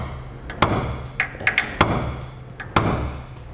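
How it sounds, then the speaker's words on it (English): Center punch struck with a hammer to mark a pilot hole in the frame of a 2016 Ram 2500 truck for a fifth wheel hitch install: four or five sharp metallic taps, a few single and some close pairs, over a low steady hum. "Take a center punch, stick it in the hole, and we will make a mark"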